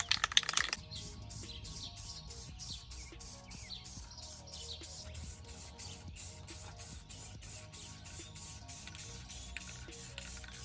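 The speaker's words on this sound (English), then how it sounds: "I like to apply this 1K clear." 1K clear coat sprayed onto painted car fender flares, a steady pulsing hiss of the spray gun in rapid repeated passes, close and even throughout, opening with a louder burst.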